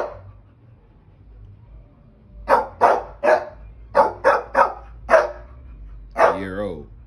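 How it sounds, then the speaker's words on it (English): An American Band Dog and an American Pit Bull Terrier of the Old Family Red line bark loudly and close, a short opening yelp followed by seven sharp barks in an uneven rhythm, ending in a drawn-out howl-like bark. "Mozzy is American Pit Bull Terrier, Old Family Red, and we out."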